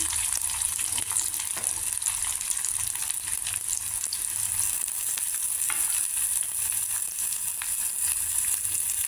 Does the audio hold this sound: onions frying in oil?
yes